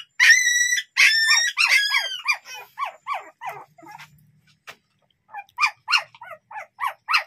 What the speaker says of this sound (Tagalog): The puppy is so noisy, Daddy Ricky.